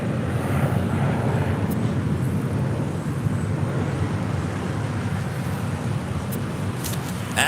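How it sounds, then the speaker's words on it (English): An American Airlines Boeing 737-800 arriving from San Antonio, Texas, rumbles in at LAX with a continuous, fairly loud roar of jet engines and rushing air, steady across the whole stretch, with faint road traffic nearby. "coming in from San Antonio, Texas, American Airlines Flight 861 and the 737-800."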